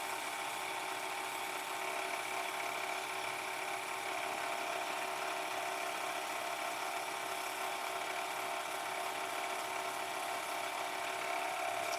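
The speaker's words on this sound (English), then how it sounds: "I'm just wet sanding this" Steady, continuous abrasive rubbing of wet sanding with 800-grit paper, with a constant hiss at even loudness throughout and no pauses or voices.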